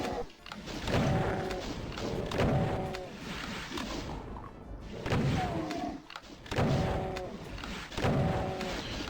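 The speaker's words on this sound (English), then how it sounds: "The fire you hear are from imps up above on that platform." In DOOM, imps on a raised platform hurl fireballs that land as repeated heavy thuds and whooshing impacts in rhythmic clusters, loud and close with short pauses between volleys.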